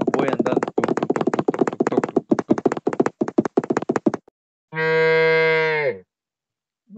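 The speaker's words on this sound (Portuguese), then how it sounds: "O efeito sonoro é meio estranho do boi andando" A cow mount walking in a video game: a rapid run of loud, close hoof clops or taps for about four seconds, followed by a single sustained, tonal moo.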